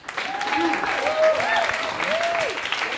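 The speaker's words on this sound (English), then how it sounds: "Big round of applause for Matthew." Audience applause for a storyteller at a Moth StorySLAM, a steady crowd of clapping throughout, with a voice talking and whooping over it.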